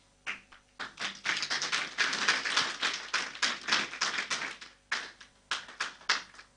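At a Sunday church service, the congregation gives a loud welcoming round of applause for a visiting music group, with dense, uneven clapping that pulses in bursts and briefly pauses before resuming.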